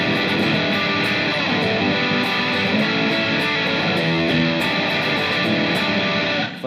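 Electric guitar played through a Neely fuzz pedal stacked on an amp set for mild overdrive, giving a thick, saturated, sustained tone that rings steadily and loud throughout with no talking.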